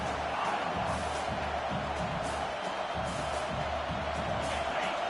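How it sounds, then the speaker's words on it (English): Home crowd in an NCAA Football 25 stadium game roars steadily throughout, a dense continuous wash of cheering with no clear speech on top. "Here comes this home crowd as the defense tries to get off the field on 3rd down"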